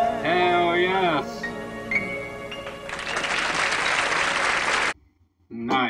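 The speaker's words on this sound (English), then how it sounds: "You can tell by the applause that there was actually a decent amount of people that got to witness that" Live audience applause and cheering after a performance of a song, with a large crowd clapping loudly and continuously for several seconds before cutting to near silence.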